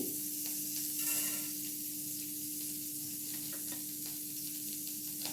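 Fenugreek and cumin seeds hit hot oil as a spice tempering, a soft steady sizzle and hiss with a few faint stirring scrapes, fairly quiet and close, with a constant low hum underneath.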